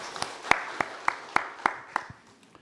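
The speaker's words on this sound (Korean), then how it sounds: "함께 영광의 박수 드리겠습니다." Sparse, distinct hand claps in a Korean church service, about seven sharp claps at a steady rhythm, moderately loud and fairly close, with no talk over them.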